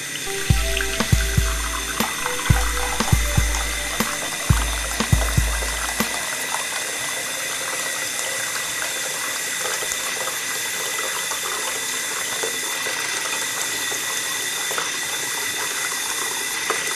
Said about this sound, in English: and fill with hot water.